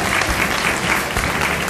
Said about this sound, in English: Rydell takes his pectoral flippers and actually brings them up and puts them together